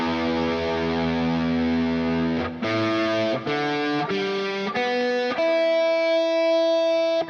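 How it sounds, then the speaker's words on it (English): An electric guitar is tuned, with sustained distorted strums ringing out and then a series of clipped notes that shift pitch step by step, each one held briefly before the next. "I am going to quickly tune my guitar"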